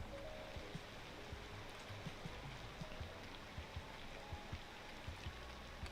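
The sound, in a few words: rain in video game Cities Skylines 2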